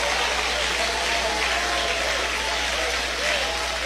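A church congregation at an evening service claps together, a dense, steady wash of applause filling the whole stretch without pause, with voices mingled faintly underneath.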